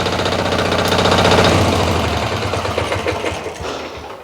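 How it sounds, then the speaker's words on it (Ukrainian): A 12-horsepower walk-behind tractor engine runs close and loud with a steady chugging, vibrating drone that eases slightly toward the end. "Мотоблочок дуже добрий, дуже потужний. Відчуваються 12 кінських сил."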